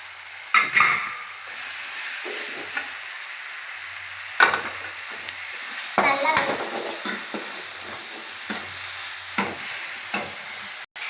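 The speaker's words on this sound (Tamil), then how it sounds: "தக்காளி போட்டு வதக்கிக்கலாம் இப்போ தக்காளி நல்லா வதங்கணும்" Tomatoes and green chilies sizzle and fry steadily in a hot pan for chicken gravy, with occasional scraping and stirring clatter over the crackle; no talking.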